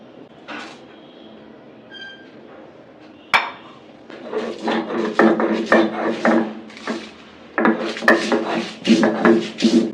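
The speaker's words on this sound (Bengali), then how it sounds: "এখন আমি শুকনো মরিচ, রসুন, কাঁচা পেঁয়াজ এগুলি দিয়ে পাটায় বেটে এটা ভর্তা বানাবো।" Dried chilies, garlic and raw onion are ground on a flat stone slab with a stone roller, rough rasping strokes coming in rhythmic bursts at close range after a few scattered knocks at the start.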